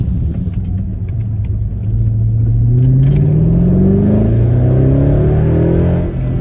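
A Mercedes-Benz ML63 AMG SUV engine revs and accelerates, heard from inside the car with windows up, a deep bassy rumble rising steadily in pitch, loud and continuous with no talking.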